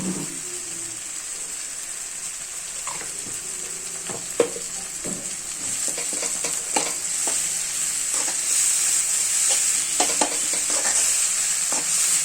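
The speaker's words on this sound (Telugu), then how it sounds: "అల్లం పేస్ట్ వేగాలి బాగా కొంచెం" Ginger paste frying for chicken curry, a steady close sizzle and hiss with repeated scraping stirs of a spoon against the pan.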